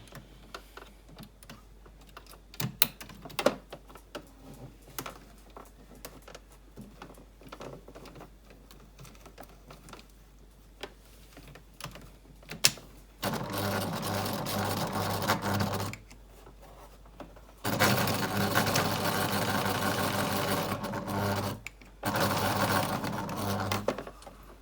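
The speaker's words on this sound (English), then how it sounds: "I'm just going to sew this bit here" Light tapping and clicking as fabric is handled, then a sewing machine stitching down a facing for an invisible zip in two sustained runs of rapid, even needle chatter separated by a short pause, close and clear.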